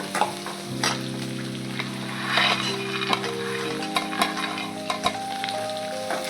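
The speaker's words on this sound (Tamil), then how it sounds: "கொஞ்சம் வெங்காயம் வதங்கினதும் வேர்க்கடலை சேர்த்துக்கலாம்." Onions and peanuts sautéing in a pan, with a continuous sizzle broken by repeated scraping stirs and clinks of a spatula, close and fairly loud, with no talk.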